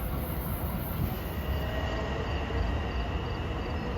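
A Long Island Rail Road train rushes past Westbury station on triple track at evening rush hour, a steady loud roar of wheels and cars rolling close by without a break.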